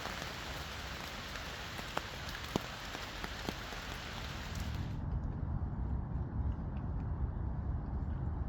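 Steady rain falls on a tarp at night, a dense continuous patter with occasional sharper drips striking the fabric, growing heavier and rougher in the second half.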